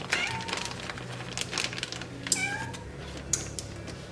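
A cat meows a few times in a home kitchen while zucchini bread batter is being mixed, the short, fairly faint calls sitting over a steady background hum with light clicks.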